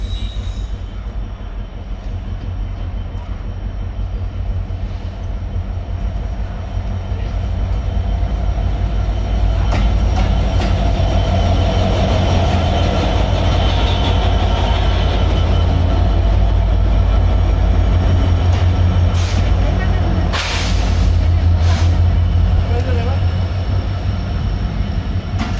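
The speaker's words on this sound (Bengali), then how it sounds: "এদিকে 6600 লোকোমোটিভ নিয়ে চলে আসছে বাংলা বান্ধা এক্সপ্রেস, যেটি পঞ্চগড় থেকে ছেড়ে এসেছে," The Banglabandha Express, hauled by a 6600-series locomotive from Panchagarh to Rajshahi, passes with a loud, continuous rumble and rail clatter that swells midway, with faint wheel squeal and metallic clanks near the end.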